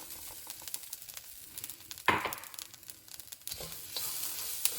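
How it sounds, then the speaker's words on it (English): Grated coconut frying in a pan for Chettinad chicken, a steady soft sizzle with scraping stir sounds and a sharp burst of crackle midway, close and alone. "fry it until the grated coconut turns out golden color"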